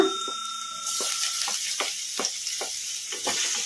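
Finely chopped garlic hitting hot oil in a pan for egg fried rice, a loud continuous close sizzle broken by repeated scraping strokes of a stirring spoon.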